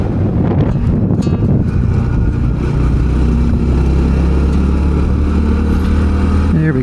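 Honda CT125 motorcycle riding along a road by a state park, its engine droning steadily under heavy wind buffeting on the microphone, with a rider's voice talking over it.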